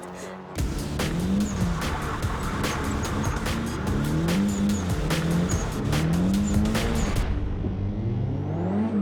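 A car drifting in a controlled slide, tires squealing in repeated rising and falling bursts over a loud engine roar for about seven seconds before cutting off abruptly.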